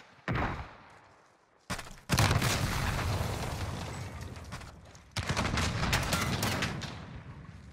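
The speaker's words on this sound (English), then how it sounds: "he just fucking nuked himself because of the C4 he threw at his teammate" Explosions and heavy gunfire in a 2v2 Gunfight match of a shooter video game, including a thrown C4 charge going off, with loud repeated blasts and sustained bursts separated by brief gaps.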